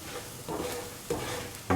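Salt being stirred into a pumpkin shrimp stew mixture in a pot, with three or four short scraping stir strokes over a quiet bubbling hiss, close and wordless.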